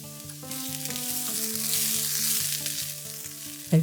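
Diced zucchini sizzles steadily in olive oil in a frying pan beside browned ground meat, a continuous close crackling hiss with a brief louder clatter at the end; no one speaks.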